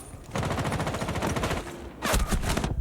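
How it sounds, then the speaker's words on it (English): Rapid automatic gunfire in a Rainbow Six Siege gunfight during a competitive esports match, a dense sustained burst of loud shots followed after a short gap by a second heavy volley. "A nice gunfight."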